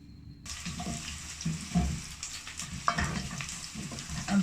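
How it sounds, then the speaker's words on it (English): Onion sizzling in hot oil after a brief silence, with occasional scrapes and clinks of stirring over the steady crackle. "I'm frying my onion."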